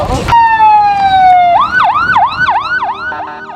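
An air raid siren sounds in Israel, opening with a sharp burst before a loud steady tone slides slowly downward and breaks into a rapid rising-and-falling wail that repeats several times.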